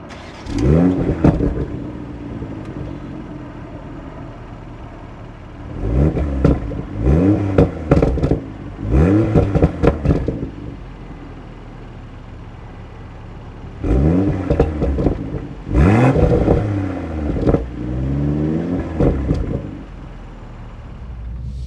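A 2025 BMW Z4 roadster engine revs hard in several loud bursts, climbing and dropping in pitch, with quieter idling between the revs; no voices.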